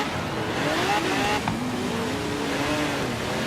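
Car accelerating in Forza Horizon 3, a continuous engine drone with rising and falling pitch as it pulls away, steady and fairly loud with no talking.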